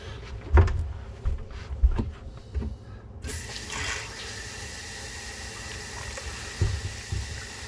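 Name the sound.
water running from a repaired Kohler pull-out kitchen faucet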